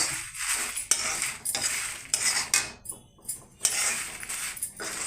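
Dry red chillies clatter and scrape against a metal pan as they are stirred and roasted, a busy run of close, bright metallic knocks and rattles with no talk.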